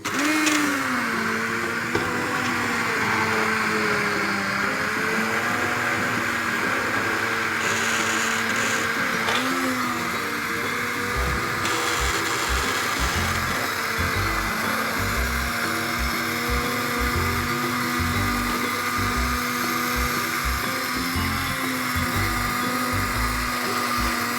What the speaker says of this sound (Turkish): blender'la bir güzel ezeceğim bunu